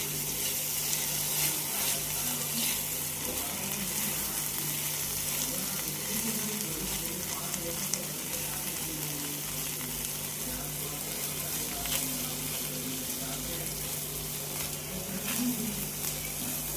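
Stuffing with two spoons of Schezwan chutney and a little tomato ketchup is stirred in a hot pan, giving a steady, even sizzle with soft scraping throughout and no talking.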